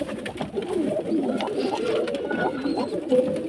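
A pigeon coos softly and repeatedly in low, throaty, rolling calls, heard close up with no talking.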